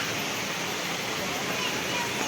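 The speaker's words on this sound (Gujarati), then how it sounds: "આ પથ્થર કેવું અહીં પાણી પડે જો" Water tumbling over rocks at the Sundha Mata temple in Rajasthan, a steady, full rushing hiss that stays constant and close throughout.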